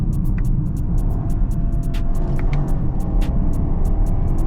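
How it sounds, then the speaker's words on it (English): A BMW 750 in sport mode accelerates hard after a downshift, a loud continuous engine roar inside the car with rhythmic ticking clicks over the rumble. "So let's give this thing a little test on speed, right? We'll put it in sport mode. We'll downshift."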